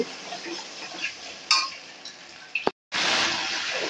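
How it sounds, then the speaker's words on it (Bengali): Spice paste being stirred and fried in a pan for a quick Bengali egg dish, with steady sizzling, scraping and clinks of a spoon against metal, plus a brief silent gap before the frying noise returns louder. "মশলাটাকে ভালো করে আমি এখন কষিয়ে নেব"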